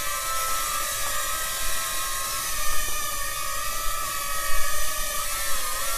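Motors of a DEERC D23 mini drone whir in flight, a close, steady high-pitched whine with layered tonal harmonics and small fluctuations in level.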